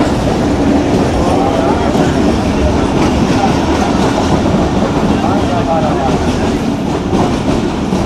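A Kohat Express passenger train rolls into Domel railway station on the Rawalpindi to Kohat line, with steady loud wheel rumble and clickety-clack on the rails, close and continuous throughout.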